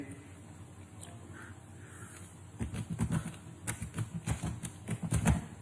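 Fingers type on a computer keyboard, starting after a quiet stretch with a rapid, irregular run of close, crisp key clicks that continue to the end.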